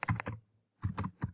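A computer keyboard is typed on in two short bursts of about three keystrokes each, separated by a brief pause, close and quiet.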